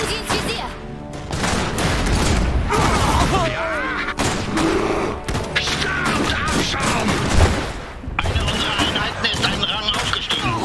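Dense gunfire and explosions from battles in the video game Iron Harvest 1920, a near-continuous clatter of shots and booms that stays loud throughout, mixed with game voices and effects.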